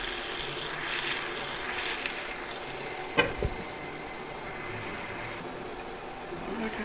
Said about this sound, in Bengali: এইভাবে এই মশলাতে চিকেনটাকে প্রায় 4 মিনিটের মতো আমরা কষিয়ে নেব।